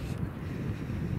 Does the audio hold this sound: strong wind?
yes